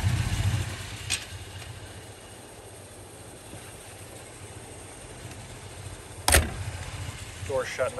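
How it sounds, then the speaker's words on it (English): A car door on a 1950 Jaguar Mark V shuts with a solid thud partway through, over the low idle of the car's 3.5-liter engine, with a fainter knock earlier and some rustling near the end. "Door shut nicely."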